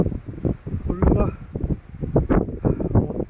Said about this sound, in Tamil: காற்று வேறு பயங்கரமாக அடிக்குதா இங்கே